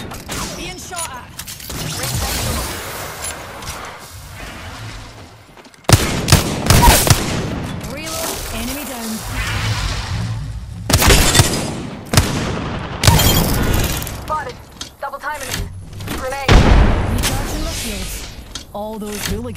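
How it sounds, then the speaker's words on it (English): Gunfire in the Apex Legends battle royale game, with repeated loud shots, booming impacts and bursts of automatic fire in irregular clusters, while a character's voice speaks at times among the shots. "Being shot at."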